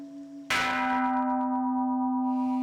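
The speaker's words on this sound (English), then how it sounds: "the 5 a.m. bell." A monastery bell at Mt. Koya strikes once at 5 a.m., a loud clear ring that hangs in a long, slowly fading hum against a quiet background.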